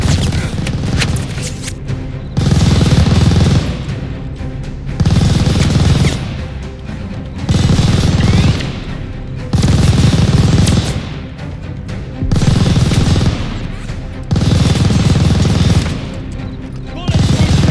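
Machine gun fire in Call of Duty Vanguard, loud bursts of rapid shots lasting a second or two each, separated by short pauses in a steady repeating pattern across the whole stretch.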